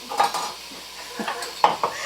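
Bacon rendering in a pot for baked potato soup, with faint sizzling and a few sharp metal stirring clinks of utensil against pot, close and intermittent.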